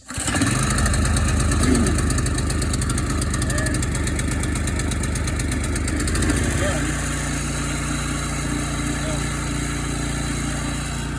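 A gas-powered tiller engine catches after a pull-cord start and settles into a steady, loud, close chugging idle, shifting to a deeper tone partway through, with a voice talking faintly over it.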